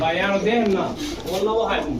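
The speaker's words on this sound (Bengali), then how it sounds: "পাকিস্তানি চুয়া কবুতর এগুলা" Pakistani Chuya pigeons cooing at a pigeon market where eggs and birds are sold, steady murmuring coos close by with people talking over them.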